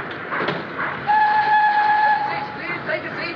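A train at a railway station platform, with a sustained two-tone whistle sounding for about a second, plus rumble and clatter underneath at moderate distance, amid busy station ambience.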